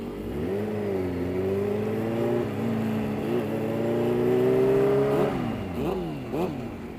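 Turbocharged Suzuki GSX-R 750 drag motorcycle engine revving steadily at high pitch and holding for several seconds, then dropping off into a few sharp rapid blips, loud and close.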